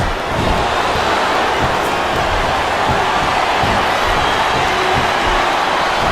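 A wrestling arena crowd in the WWE SmackDown vs Raw 2007 video game roars steadily throughout, a dense, loud wash of cheering with no pauses.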